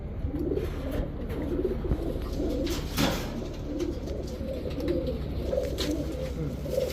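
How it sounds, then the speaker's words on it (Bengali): Large, big-headed green-necked pigeons of an old breed line coo repeatedly at a poultry farm, with soft rhythmic low coos rising and falling steadily under a faint background of other birds and rustling. "এই হচ্ছে পুরান জেনারেশনের সবুজ গলা, বড় সাইজ এবং বড় মাথার কবুতর"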